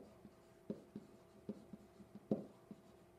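A title is written out by hand, likely chalk or marker on a board, giving faint, close, irregular taps and short strokes spaced through the stretch.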